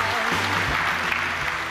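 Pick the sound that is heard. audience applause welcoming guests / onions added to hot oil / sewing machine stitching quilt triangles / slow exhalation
audience applause welcoming guests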